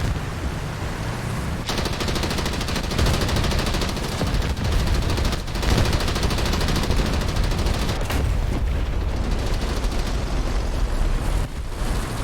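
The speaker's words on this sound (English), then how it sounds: "And start firing back at the Stukas." Tanks in a simulation game fire back at attacking Ju 87 G Stuka dive bombers, a dense, continuous barrage of gunfire and explosions rumbling without pause, with no talk over it.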